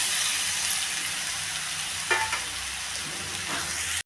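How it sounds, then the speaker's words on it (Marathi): Sabudana khichdi with grated potato being stir-fried in a pan over a medium flame, a steady sizzle with a few scraping stirs of the spatula, close and alone. "गॅसच्या मिडियम फ्लेमवर खिचडी चांगली मऊ होईपर्यंत अशी एकसारखी परतत राहायचं आहे"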